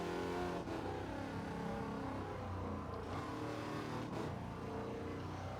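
A Wicked Fabrication GT 51 race car in Gran Turismo 7 drones at steady high revs around Grand Valley South, the engine loud and continuous, holding one gear without shifting up to fifth.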